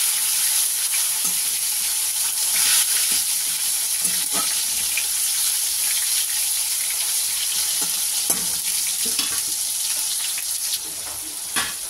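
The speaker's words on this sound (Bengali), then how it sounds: "একটু ভেজে নিই টমেটোটা।" Tomato fries in hot oil with cumin and slit green chillies, producing a loud, dense, continuous sizzle and crackle, with intermittent scrapes and taps of a spatula stirring the pan.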